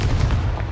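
Confringo blasting spell in the video game Hogwarts Legacy: a brief, heavy explosive boom with dense low rumble, loud and close, filling the whole short moment.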